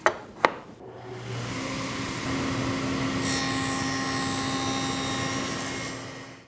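A table saw with a dado blade spins up after a couple of sharp clicks, then settles into a steady, loud whirring drone as it cuts a notch in wood against a miter gauge. The drone runs on to the end with no voices.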